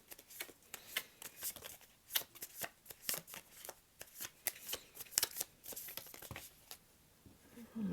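Tarot cards being shuffled close up: a long run of crisp, papery riffles and slaps in uneven bursts, with no voices.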